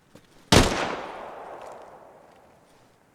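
A single loud gunshot cracks out in the ARMA Reforger military shooter game, with a sharp onset and a long echoing tail that fades over a few seconds.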